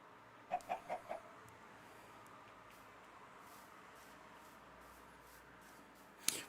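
A chicken clucks in the video game Kubifactorium, four quick close clucks in a row followed by a long stretch of quiet ambience and one sharper cluck near the end.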